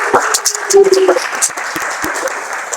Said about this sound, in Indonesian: kita berikan aplaus bersama